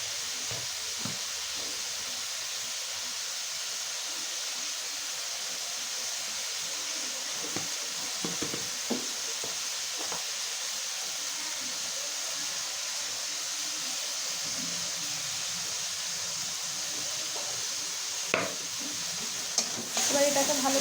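Turmeric, chilli and cumin powders sautéing in a pan with a splash of water make a continuous moderate sizzle, broken by occasional scraping stirs and small pops, with no talking.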